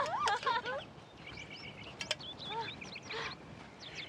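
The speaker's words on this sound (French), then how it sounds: "Il y a beaucoup d'oiseaux par ici." Several birds call outdoors on a prairie homestead, including duck-like quacks and whistling chirps scattered across the clip, with a few sharp calls standing out over a steady outdoor background.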